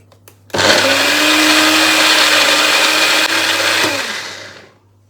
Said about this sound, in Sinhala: දැන් මේක බ්ලෙන්ඩ් කරගන්න තමයි ඕනේ.